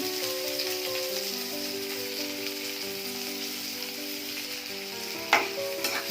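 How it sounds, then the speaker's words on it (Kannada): Chopped onions frying in a pan for vegetable Maggi, a steady, close, unbroken sizzle throughout, with one sharp clink of a utensil near the end. "ಈರುಳ್ಳಿ ಫ್ರೈ ಮಾಡ್ತಾ ಇದ್ದೀನಿ"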